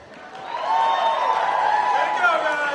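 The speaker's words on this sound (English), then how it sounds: "Let's have one more round of applause for our 5 assistants." A cosplay contest audience at Colossalcon 2018 claps and cheers for the five assistants, a steady wash of applause building after a quiet start and holding under faint voices.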